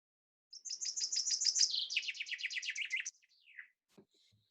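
Finch song from a small garden bird: a rapid, chirrupy run of bright notes that speeds up and drops in pitch, ending in a short trilled flourish and a faint call, clear and fairly close with no other sounds.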